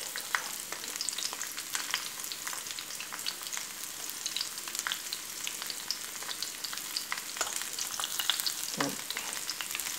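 Cauliflower frying in a pan with turmeric, red chilli and salt, a steady crackling sizzle with scattered stirring scrapes running throughout, close and moderately loud, no voices.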